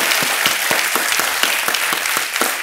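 Studio audience applause on the Hindi quiz show Kaun Banega Crorepati, a dense, steady clapping from a large crowd with sharp rhythmic accents, loud and continuous throughout.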